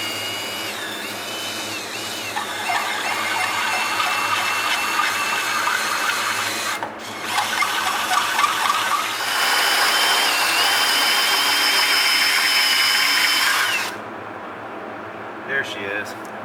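A power tool whines loudly and steadily as it cuts a hole through the metal tank of a wood splitter, briefly dropping out midway before resuming and stopping, with a voice talking over it.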